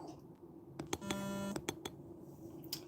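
A mobile phone rings indoors, a steady electronic ring tone with a sustained pitched chime and harmonics holding for about half a second, surrounded by brief clicks and low room noise.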